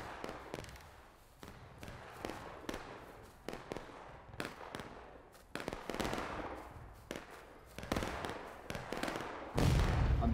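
Musket gunfire in the Civil War video game War of Rights: many sharp, loud shots crack in irregular succession, some close and some further off, building into a denser volley toward the end.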